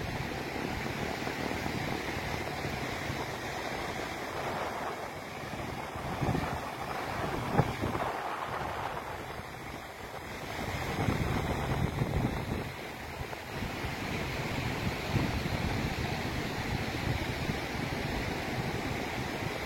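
Wind buffets the microphone at Bhatye beach while waves and surf rumble steadily in the background, a continuous broad roar with gusts swelling and easing and no voices.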